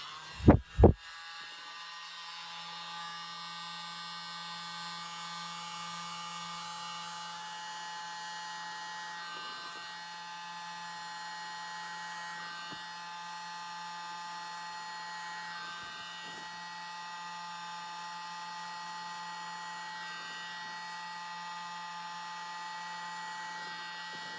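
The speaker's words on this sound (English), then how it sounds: "I'm going to use my little blower this time" Small electric blower running steadily on an acrylic paint pour over a wooden maple leaf, a continuous high whine with a low hum, starting after two sharp clicks and holding level throughout.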